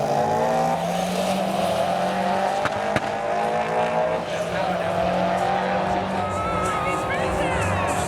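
A modified Subaru and a Ford Focus race at a track, with loud engines roaring continuously and tires squealing. Speech runs over the engine noise, and a brief sharp click sounds partway through.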